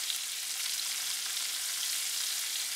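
Pot roast meat sears in butter, its sides crisping with a steady, even sizzle that holds at a close, moderate level and stays unbroken throughout, with no talking over it.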